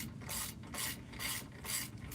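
A ratchet wrench clicks in quick bursts, turning loosened bolts off a car's brake caliper during a brake swap, with rhythmic ratcheting strokes close by and no talk.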